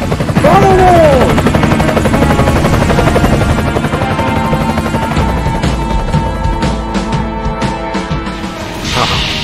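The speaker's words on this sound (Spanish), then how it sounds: "¡Súbete al helicóptero! ¡Nos vamos!" A helicopter in a video game, its loud rotor chop steady and close throughout, with bursts of gunfire and crashing effects mixed in and a brief voice near the start.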